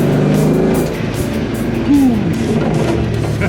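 A 1970 Dodge Coronet with a swapped 6.1 HEMI V8 drives along, a loud close engine rumble rising briefly as it revs, then settling into a steady low drone.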